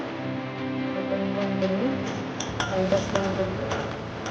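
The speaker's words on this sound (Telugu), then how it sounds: "ఇలా మనం స్కూప్ చేస్తూనే ఉండాలి ఎందుకంటే గడ్డలు కట్టుకుంటూ ఉంటుంది" A spoon stirs and scoops sago porridge in a metal pot, giving soft scrapes and light clinks in an irregular rhythm, close and moderately quiet.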